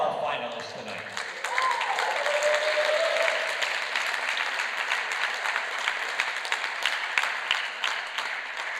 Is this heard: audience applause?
yes